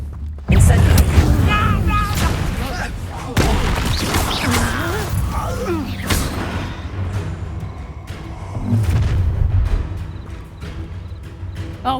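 Combat with a fire spell in the game Hogwarts Legacy: loud, booming blasts and crackling bursts with rumbling impacts run near continuously. Voices speak during the fight.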